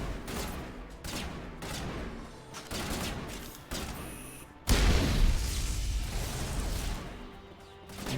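Gunfire in the video game Mass Effect Legendary Edition: dense, loud volleys of shots with sharp bursts, a brief lull, then a heavy booming barrage that rumbles on for several seconds.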